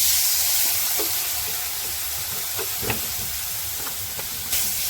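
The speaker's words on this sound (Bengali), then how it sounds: "একটু হালকা জল দিয়ে নেড়ে নেবে একটু হালকা জল দিল" Vegetables and coriander powder in a pan with a splash of water added hiss and sizzle steadily, with a few soft clinks of a utensil stirring through the steam.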